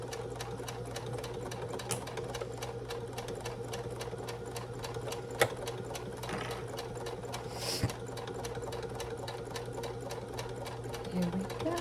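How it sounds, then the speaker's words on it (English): A sewing machine stitches a seam at a quarter-inch allowance on a beginner shoulder/crossbody bag, running steadily and close with a fast, even mechanical chatter and a few brief clicks and knocks. "let's go ahead and sew. And I am going to sew at 1/4 of an inch."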